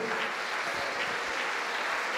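A church congregation claps together in sustained, dense applause that fills the room at an even, loud level from start to finish, with no distinct voices above it.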